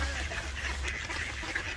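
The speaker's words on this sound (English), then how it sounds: "Lot of ducks." Ducks quack in a noisy cluster at close range during feeding in Riga, their calls partly buried in broadband outdoor noise and wind.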